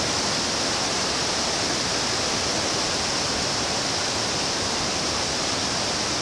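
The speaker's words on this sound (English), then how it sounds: "the tidal river overflows." Steady, dense rushing of an overflowing tidal river in spring flood, a loud uniform hiss and roar like a fast flowing river, with no pauses or other sounds.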